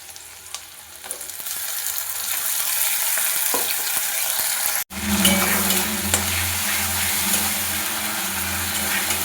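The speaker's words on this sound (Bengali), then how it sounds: "পেঁয়াজটা আমার একটু ভাজা ভাজা হয়ে গেছে" Onions sizzle and fry in a pan with onion and garlic paste, a steady crackling hiss with a brief stir partway through and a fuller sizzle afterward.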